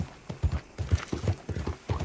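Horse hooves clip-clopping in a quick uneven rhythm on the ground in Red Dead Redemption 2, close and clear with no talk.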